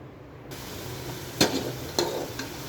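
Rice kheer simmers in milk while a spoon stirs it, producing a soft, steady background with three brief scraping clinks spaced through the second half.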